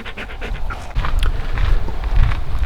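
A dog on a farm pants steadily and quickly at close range, with quick rhythmic breaths and some rustling and movement underneath, no talking.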